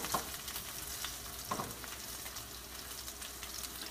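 Hawaiian fried rice with Spam sizzles steadily in a hot pan, broken by a couple of scraping clatters as it is flipped, close up with no talking.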